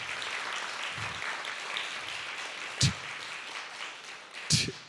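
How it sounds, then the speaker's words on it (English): An audience claps for two colleagues at a Quantum Coffeehouse live event, the applause moderate and diffuse, with a couple of sharp knocks or thumps near the end. "A round of applause for both these colleagues."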